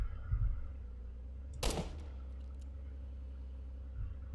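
A repeater rifle fires a single sharp shot in a video game, loud against a low, steady background rumble, followed by quiet.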